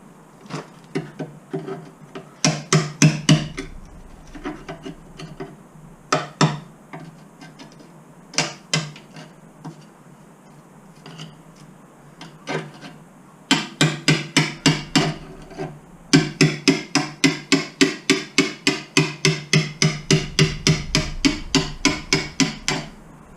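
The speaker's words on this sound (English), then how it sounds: "I'm going to need my hammer," Rhythmic hammer strikes on a workpiece, close and sharp, coming in short bursts at first and then long runs of fast, evenly spaced blows.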